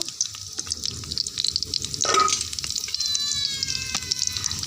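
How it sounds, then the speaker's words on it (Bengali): Whole garam masala and cumin seeds sizzle in hot oil in a pan, a close, steady crackling hiss with a brief clatter midway and small pops throughout. "দিয়ে দেব তেলেতে গোটা গরম মশলা দিয়ে দেব আর গোটা জিরে দিয়ে দেব"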